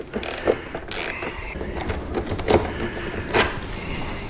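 A ratchet works a 3/16 hex bolt off the blinker bracket of a Harley-Davidson Road Glide motorcycle, giving scattered, short mechanical clicks that come close up at an irregular rhythm, with no talking.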